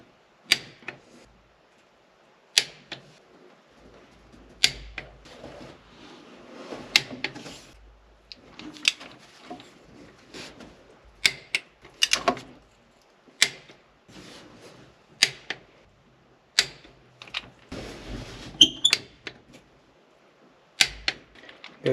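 A torque wrench clicks sharply again and again while bolts are tightened on a Case 1070 power shift control valve, about a dozen crisp clicks every second or two, with soft metallic handling and shuffling between them.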